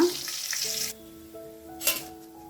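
Roasted gram (hurigadale) dough frying in a pan, a bright hiss of sizzling oil up close that drops abruptly to a quieter steady crackle, with a brief sharp burst of sizzle near the end.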